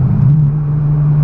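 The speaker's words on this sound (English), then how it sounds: "The sound it makes when you downshift" A Ferrari 550 Maranello with a V12 engine and manual gearbox gives out a loud, steady low drone that holds one even pitch for just over a second, near and close up.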